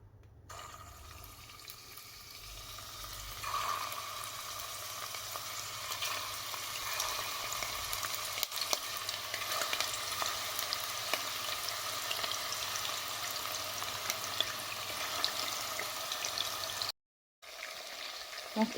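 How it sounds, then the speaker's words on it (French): Meatballs frying in hot oil at medium heat, a dense, steady crackling sizzle that thickens after a few seconds and runs on close and continuous, cut off briefly near the end. "il faudra frire dans de l'huile bien chaude, mais à la température moyenne"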